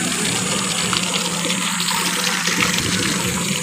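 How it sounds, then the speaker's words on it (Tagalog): Running water in a rainforest park: a steady, close rushing flow that fills the scene with an unbroken wash of sound, with no voices. "Yung doon kanina walang tubig, ito may tubig."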